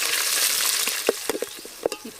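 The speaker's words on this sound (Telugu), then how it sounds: "ఇప్పుడు దీంట్లో పచ్చిమిరపకాయలు, మనం దంచి పెట్టుకున్న అల్లం వెల్లుల్లి పేస్ట్ వేసి వేయించుకోవాలి." Green chilies and ginger garlic paste fry in hot oil with a bright, continuous sizzle, broken by several crisp pops and spatters, close and fairly loud with no voices.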